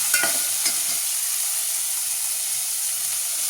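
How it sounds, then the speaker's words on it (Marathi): Chopped vegetables such as eggplant, cauliflower and tomato fry in a pan for dal khichdi, giving a steady, close sizzling hiss with a couple of faint stirring taps at the start. "आपण ज्या काही भाज्या चिरून घेतल्या आहेत यानंतर ते आपण ॲड करणार आहोत पूर्ण आणि छान अशा परतून घेणार आहोत."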